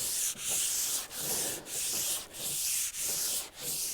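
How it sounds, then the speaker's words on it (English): Hand sanding a wooden farmhouse table top along the grain, close rhythmic rasping strokes, about six even back-and-forth passes with short gaps, alone. "You always want to sand with the grain."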